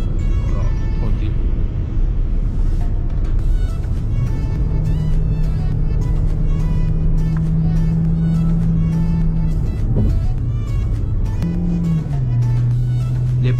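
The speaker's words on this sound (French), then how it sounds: "Les passages de rapport sont un peu longs." A car driven in sport mode gives a steady, loud engine drone whose pitch holds, then drops and shifts near the end as a slow gear change goes through, with voices heard at times.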